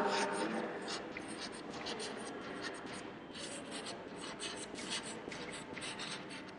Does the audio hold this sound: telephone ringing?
no